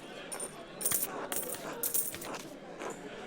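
Pennies tossed in as the ante for a card game in the video game Pentiment, several separate metallic clinks and jingles of coins landing on a table, close and fairly quiet.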